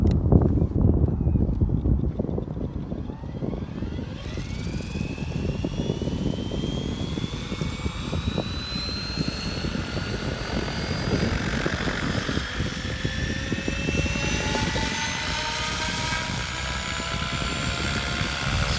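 A Mikado radio-controlled helicopter with VBar control whines steadily and loudly as it hovers and flies, its pitch rising and falling with the rotor speed throughout.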